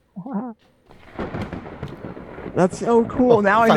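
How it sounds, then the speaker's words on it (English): A Syrinscape lightning-strike thunder sound effect played during a tabletop role-playing session gives a crackling, rumbling burst of noise. Voices talk over it and before it. "and lightning strikes in the background,"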